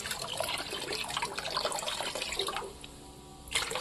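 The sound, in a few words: water being sprinkled into a betta fish tank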